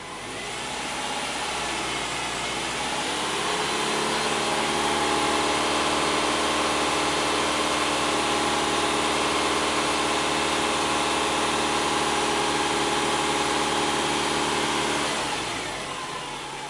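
Subaru engine with a P0171 check-engine fault held at raised RPM, a loud, steady drone that swells after the first second, holds evenly, then eases off at the end, with no talk.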